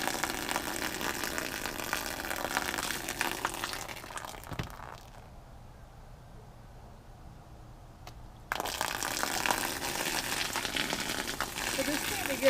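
A broom sweeps rainwater off a sagging RV awning, giving loud splashing, swishing cascades that fall away to a quieter stretch midway before the sweeping resumes.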